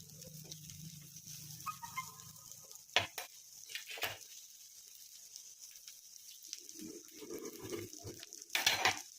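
Pieces of a low-calorie dish frying in a pan, a soft sizzle broken by scraping and clatter as each piece is lifted and turned, with a few sharper knocks.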